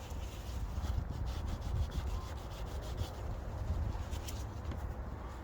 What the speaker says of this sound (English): place your rag or towel in like this and then give it a few wipes